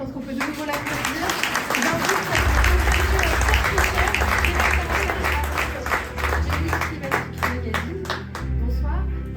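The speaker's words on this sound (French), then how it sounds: "je pense qu'on peut de nouveau l'applaudir" Applause rings out at a French media awards ceremony, a loud, crisp clatter of many hands close by, with a voice speaking through the opening seconds before the clapping carries on alone, thinning slightly toward the end.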